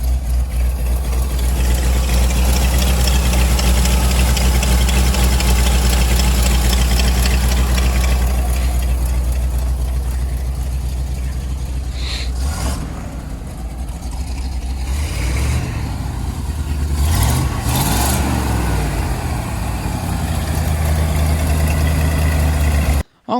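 A 1984 Ford truck engine idles after being restarted, a loud, steady low rumble close by that runs the whole time, with a few brief knocks and shifts in tone midway and no voices.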